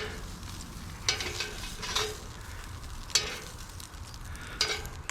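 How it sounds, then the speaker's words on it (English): Buttered hamburger buns toast in a frying pan under a low, steady sizzle, broken by a few brief scrapes and shuffles as they are moved about, with no voices. "I think we should toast the buns."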